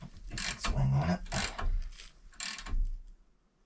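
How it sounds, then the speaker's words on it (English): A short ratchet works a tight caliper bracket bolt on a 2016 Subaru Forester during a brake job, giving three close, rasping bursts of clicking strokes with short pauses between them. "Let's see if we can use the short ratchet"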